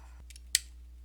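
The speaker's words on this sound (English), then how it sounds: "Flip the head around and fold the head back." A sharp, single plastic click from the head of a WFC Earthrise transformer figure being folded back, brief and close, with a couple of fainter clicks just before it.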